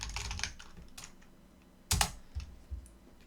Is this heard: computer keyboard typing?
yes